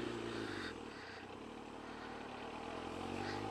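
A Kawasaki Ninja motorcycle is heard with a passenger riding on the back, giving a steady, loud engine drone mixed with wind rush throughout the short stretch and no talking.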